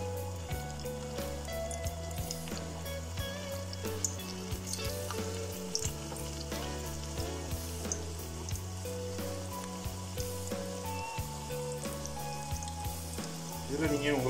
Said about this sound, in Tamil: எண்ணெய் நல்லா சூடாகிடுச்சு. நம்ம இப்போ வடையை நம்ம போட்டுக்கலாம்.